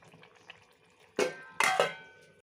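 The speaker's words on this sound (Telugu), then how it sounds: "సో మూత అయితే పెట్టేద్దామండి" A lid goes onto a pot of prawn and capsicum curry, two sharp metallic clanks close by, the second with a short rattle, over faint kitchen background.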